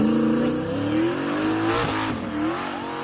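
A modified Ford Mustang's engine revs hard and loud and close, its pitch climbing and dipping through a few swells over roughly three seconds, with no voices.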